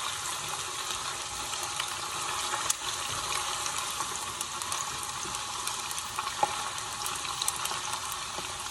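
Chicken pieces frying in a pan for chicken nihari, a soft steady sizzle and crackle with occasional small pops, quiet, with no talking.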